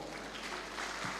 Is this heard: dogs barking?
no